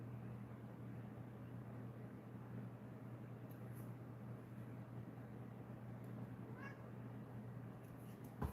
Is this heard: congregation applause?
no